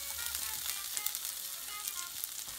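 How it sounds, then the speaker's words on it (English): Shallots sauté in leftover chicken grease and fat in a hot pan, giving a steady, close frying sizzle with a bright crackling hiss that runs evenly through the whole short stretch, with no voices. "we are going to use the grease and all the fat that stayed on the pan to saute our shallots in"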